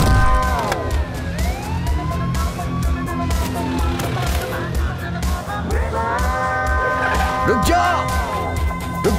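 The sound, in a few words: ambulance siren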